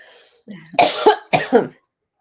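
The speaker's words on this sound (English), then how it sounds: "Sorry, I got a cough." Two short, close coughs in quick succession, sharp and raspy, with silence on either side.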